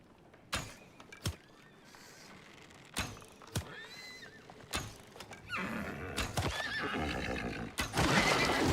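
A horse in the video game Icarus, neighing and whinnying repeatedly amid sharp clip-clop hoof strikes and thumps, loud and close, with the activity growing busier and denser toward the end.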